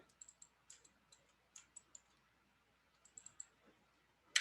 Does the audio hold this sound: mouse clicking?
yes